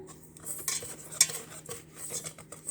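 Starch, sugar and vanilla sugar stirred together in a bowl for a chocolate cake cream, heard as quick close scraping and light metallic clinks of a utensil against the bowl, with nobody talking.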